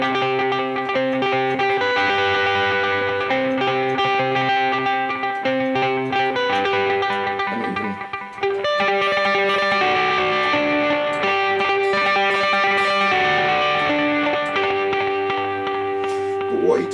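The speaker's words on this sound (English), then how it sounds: "what you get is this sound which has got this like echo delay effect on it" Electric guitar with an echo delay effect playing a late-1980s theme tune, its repeating notes ringing in a dense, sustained line with distortion, continuous and loud for the whole stretch.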